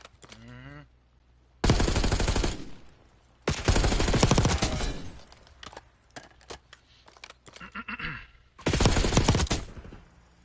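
Automatic gunfire from a Call of Duty hardpoint match, several loud sustained bursts of rapid shots separated by short gaps, close and dominant, with quieter game sounds between the volleys.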